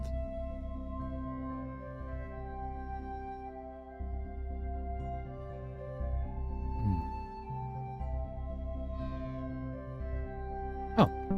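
A cat meows repeatedly inside a video game, plaintive calls spread through the stretch over a steady musical background.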